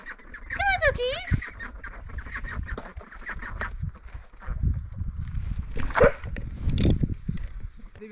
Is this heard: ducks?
yes